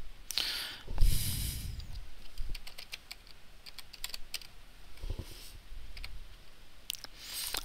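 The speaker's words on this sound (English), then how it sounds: "I'm also going to type in a title for this drawing." Close computer keyboard typing as a title is entered for a drawing, with irregular bursts of key clicks and a few louder taps, no voices.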